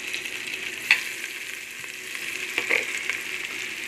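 Shrimp for a home-style biryani fry in hot oil with a steady close sizzle, broken by a few clinks and stirring scrapes of a utensil in the pan, no talk.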